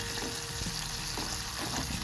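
Steady, dense sizzling of spices tempering in hot oil over a gas flame for khaman dhokla, loud and continuous from start to finish, with occasional stirring clatter.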